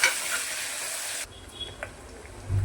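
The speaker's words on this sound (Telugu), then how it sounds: "జీలకర్ర ఆవాలు కాలిపోయింది, ఆనియన్స్ వేసుకుందాం" Onions hitting a pan of sizzling cumin and mustard seeds with curry leaves: a loud frying hiss that suddenly drops to a softer crackle, then a low rumble at the end.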